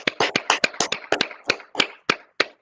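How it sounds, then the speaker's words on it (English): Hand claps of a round of applause, loud and close, a quick irregular run of about a dozen sharp claps that slows toward the end. "Round of applause for Kev."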